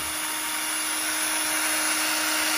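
An electric drill with a long bit bores into a model airplane wing, a steady high whine of the motor running close and loud without a break.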